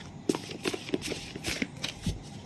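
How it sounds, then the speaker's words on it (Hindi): A handwritten deck of reading cards is shuffled close by in soft, irregular riffling bursts, a few quick flutters spread over a couple of seconds with no talking. "मैं अपने हैंड रिटन डेक से लूँगी कार्ड्स एनर्जीज़ के लिए।"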